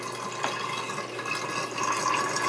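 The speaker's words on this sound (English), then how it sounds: "You see, it's still draining." Panda B45 portable washing machine draining water in a continuous, fairly even wash of flowing, trickling liquid, steady and moderately loud without any talking.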